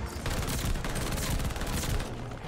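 Rapid sustained automatic fire from a PPSh submachine gun in Call of Duty: Vanguard, dense continuous bursts over roughly two seconds that taper off near the end, loud and close with faint background game noise.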